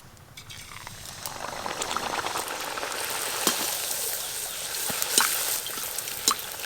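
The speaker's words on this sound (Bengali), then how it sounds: "এবার ফুলকো ফুলকো লুচিগুলো ভেজে নেব" Luchi deep-fry in white oil with a bubbling, crackling sizzle that swells after the first second and keeps going, with occasional sharper pops and the clink of a ladle, close by.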